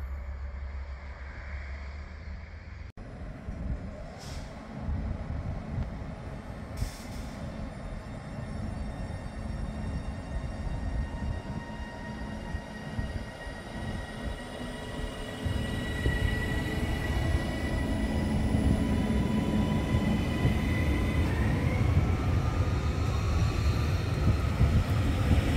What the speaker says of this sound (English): on railhead treatment train / track cleaning